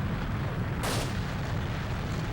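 A single handgun shot rings out in the video game Escape from Bug Island, a short loud burst standing out over steady low background rumble.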